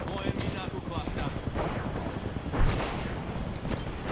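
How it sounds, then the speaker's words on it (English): Rumbling cluster explosions from Fuse's knuckle cluster in Apex Legends, a dense run of overlapping booms and crackles under a voice. "Deploying me knuckle cluster."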